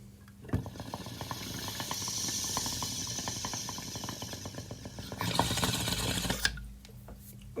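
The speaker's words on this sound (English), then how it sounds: "I am going to be doing multiple bong rips" A long, steady bubbling pull on a water bong, a continuous gurgling hiss that swells louder toward the end before stopping abruptly, heard close with no talking.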